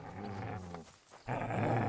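A dog in the medieval game Kingdom Come: Deliverance II growls low and rumbling, easing off briefly before a louder, rougher growl resumes, heard close and alone.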